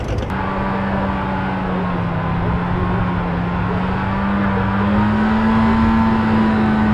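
A 1992-93 Acura Integra GSR engine pulling hard through the gears, a loud steady engine drone whose pitch climbs slowly as it accelerates, heard close without talk.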